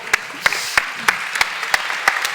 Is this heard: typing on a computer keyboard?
no